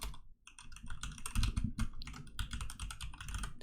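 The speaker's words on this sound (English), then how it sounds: "So you want to type your email" Rapid, steady keystrokes on a computer keyboard as an email address is typed in to sign up for Aion 2, close and clear with no talk over them.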